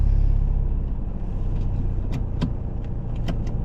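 A car engine idles steadily during a driving test, a continuous low rumble with a few faint clicks and ticks over it.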